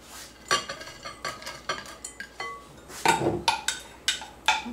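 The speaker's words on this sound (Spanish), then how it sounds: "Vamos a mezclar la salsa con las espinacas y los piñones" Spoon clinking and scraping in a pan while sauce is mixed into spinach and pine nuts, a quick irregular run of metallic taps and stirs, close and clear with no talk.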